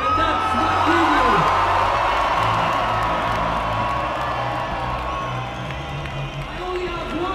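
A huge festival crowd at Pukkelpop cheers, whoops and shouts in a sustained roar, with a voice carrying over the noise.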